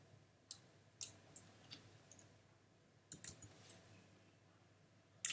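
Computer mouse clicks during CAD modelling work, sharp single and double clicks spaced irregularly over a quiet room, near and fairly soft, with no talking.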